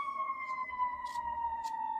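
A wailing siren from an emergency vehicle, its tone sliding slowly and steadily downward, heard at a distance with some faint sharp noises over it.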